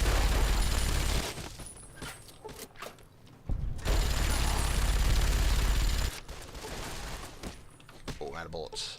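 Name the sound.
gunfire from a video game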